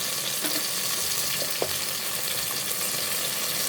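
Vegetables for sambar fry and sizzle in a pan while being stirred, a steady close hiss with a few soft scraping clicks, no voices.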